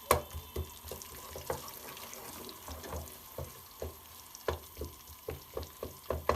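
Onions frying in a pot for Egyptian koshari, a steady low sizzle with repeated scraping and clinking as they are stirred, close by and without speech.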